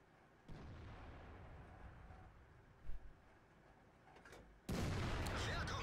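Tank cannon fire booms in the World of Tanks video game from a Pz. IV, with a few muffled distant shots followed by a loud, close blast near the end, heard beneath quiet game ambience.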